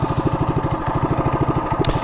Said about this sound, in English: I got the motor in here, and obviously it's running.